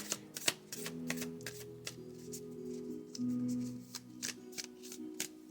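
Tarot cards are shuffled a little away from the microphone, giving a run of quiet, crisp riffles and snaps over a soft steady hum.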